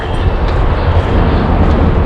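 A loud, steady rumble of a train rolling along the tracks, with continuous low roaring noise up close.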